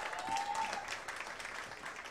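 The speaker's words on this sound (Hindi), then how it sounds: "तालियां हो जाए इनके लिए" Applause from a studio audience on a televised dance competition show, a dense wash of many hands clapping together, steady and fairly close for a couple of seconds before easing slightly.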